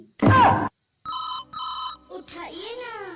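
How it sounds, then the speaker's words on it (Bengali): A telephone rings in a comic Bengali cartoon, two clear electronic ring bursts close up. A loud cartoon voice comes just before the ringing and another voice right after. "আমার একটা ফোন এসছে"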